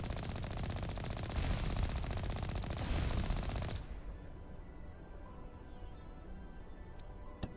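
Gunfire in the video game Mass Effect: a dense burst of rapid automatic shots for about four seconds, then it cuts off to quiet game ambience with a faint whoosh.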